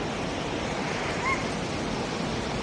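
Steady rushing of the Pittalaborra waterfall, a dense continuous roar of falling water that fills the whole clip evenly, with no voices.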